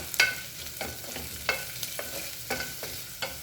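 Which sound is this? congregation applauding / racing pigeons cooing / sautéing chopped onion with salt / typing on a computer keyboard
sautéing chopped onion with salt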